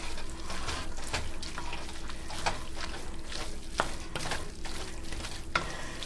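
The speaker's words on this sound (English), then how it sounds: "Give that a good stir." A spoon scrapes and swirls steadily through soup mix in a pot for shepherd's pie, with rhythmic stirring strokes and soft liquid sloshing, no voices.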